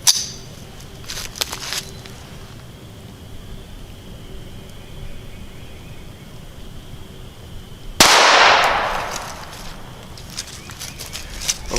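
A Browning Buck Mark Medallion pistol fires a single sharp, loud shot late in an outdoor shooting-range stretch of quiet, the report ringing out briefly after several seconds of faint background.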